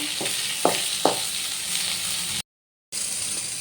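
Khoira fish frying in hot oil, a continuous close sizzle with a couple of sharp spatter bursts early on and a brief dropout before the frying resumes.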